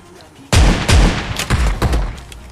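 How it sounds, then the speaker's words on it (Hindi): Shotgun blasts from the game PUBG Mobile, two or three loud, close booming shots with heavy low thump and short decays, spaced roughly half a second apart after a quiet opening. "अभी यहाँ पे दोनों के दोनों शॉट मिस हो गए।"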